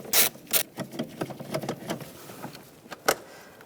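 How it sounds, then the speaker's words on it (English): T30 socket loosening screws on a 2001-2006 BMW 325xi during a spark plug job, heard as a run of short metallic ratchet clicks and clatters close by, with a few sharper ticks and no talk. "Using a T30 socket, take these screws"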